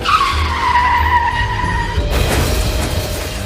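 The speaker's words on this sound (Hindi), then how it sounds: "उसकी बाइक एक बड़े पत्थर से टकरा गई और वो नीचे गिर गया" A motorbike skids with a high, sliding squeal, then crashes into a big rock with a sudden harsh crash and rattling clatter, loud and close.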